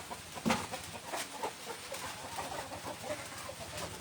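Fighting rooster at a village cockfight in Thailand's Isan region, clucking and calling in short bursts with one louder outburst near the start, over steady outdoor background noise.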